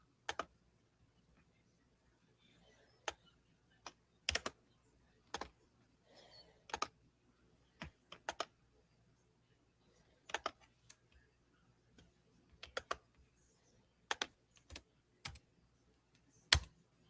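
Sparse computer keyboard keystrokes tap out in short irregular bursts, crisp and close against near silence, with long pauses between clusters of clicks.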